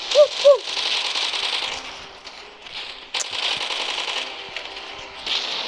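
Rapid automatic gunfire in the Roblox game Zombie Uprising, dense bursts of crackling shots rattling on and off at close range with brief pauses between them.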